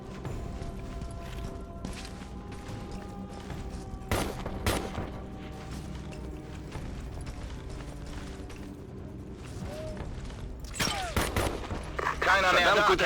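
Gunfire in the tactical shooter game Ghost Recon Advanced Warfighter 2, with bursts of shots and sharp cracks over a dense, busy battle soundscape, growing louder and more chaotic toward the end.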